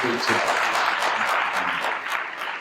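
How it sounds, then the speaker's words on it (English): Audience applause for panelists at an NAACP political forum, a steady wash of clapping through the short span with some voices mixed in underneath. "Let's give our panelists a round of applause."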